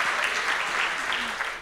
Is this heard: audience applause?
yes